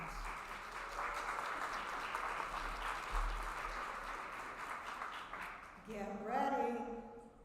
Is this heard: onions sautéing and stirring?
no